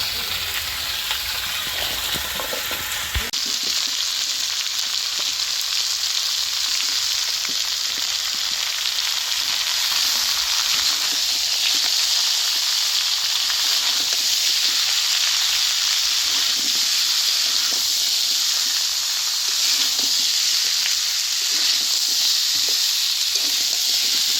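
Carrots, potatoes, papaya, beans, tomato and capsicum sizzle together in a hot pan, a dense, steady hissing fry that holds loud and constant throughout, with a brief clatter as the vegetables go in at the start.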